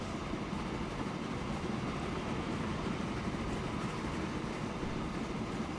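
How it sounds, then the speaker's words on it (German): A train rolls into the depot in the railway video game Train Fever, giving a steady, continuous rumble of wheels and carriages at moderate volume with no voices. "Der wird jetzt bestimmt ins S-Bahn-Netz mit überfahren und dann hinten ins Depot rein."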